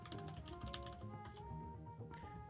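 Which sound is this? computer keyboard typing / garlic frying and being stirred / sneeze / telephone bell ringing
computer keyboard typing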